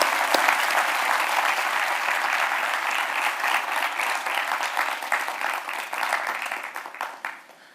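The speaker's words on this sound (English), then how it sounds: "So please give them a big applause" Audience at a keynote address breaks into loud, dense applause that holds strong for several seconds, then thins out and fades toward the end.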